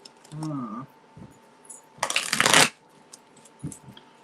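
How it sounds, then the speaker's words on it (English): Tarot cards being shuffled by hand in a riffling burst that rises loud for about half a second, with softer card handling and small taps around it, plus a brief tonal voice-like sound early on. "I've already started to shuffle"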